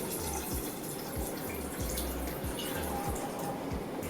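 Measured water pours steadily into a biryani pot in a home kitchen, a soft continuous splashing stream with faint dripping texture and no speech over it.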